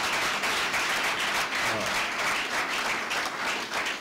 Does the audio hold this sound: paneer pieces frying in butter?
no